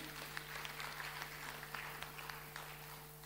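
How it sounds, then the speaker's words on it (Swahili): Congregation at a Kikuyu youth Sunday church service clapping for the youth, a faint, steady patter of many hands over a constant electrical hum. "Tupigie wanarika wetu makofi."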